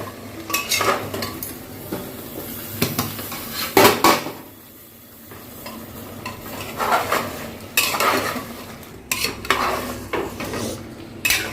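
A spoon scrapes and clatters against a pot as potatoes are stirred into mutton curry, in irregular close bursts of metallic knocks and scraping with faint sizzling between them.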